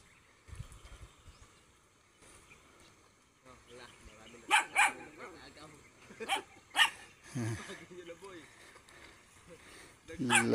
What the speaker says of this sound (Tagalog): Ingay-ingay na tuta guys.